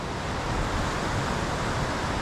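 Rain-swollen river on the Appalachian Trail rushing beneath a trail bridge, a loud, steady, broadband roar of turbulent water with no breaks or voices.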